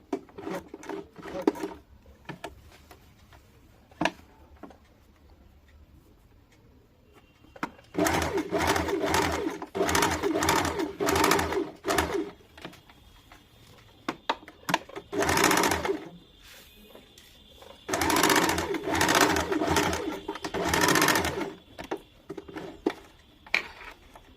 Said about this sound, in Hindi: अब ये फिटिंग दाग जो दिए थे इसी के ऊपर हम लोग दोनों साइड सिलाई कर लेंगे।